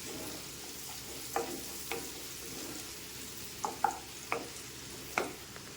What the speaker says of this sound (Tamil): கொஞ்சம் வெங்காயம், பெரிய வெங்காயம் போட்டு வதக்குவோம்.